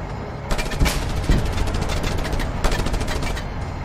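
Rapid gunfire in a Just Cause video game battle against a tank, dense sustained bursts of close shots with heavier impacts mixed in, loud and continuous.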